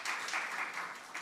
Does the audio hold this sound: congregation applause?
yes